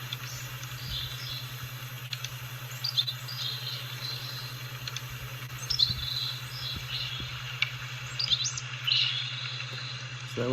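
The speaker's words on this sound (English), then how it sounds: "So you'll hear the birds now." Small birds chirp and tweet intermittently at a distance over a steady low electrical hum and soft outdoor background.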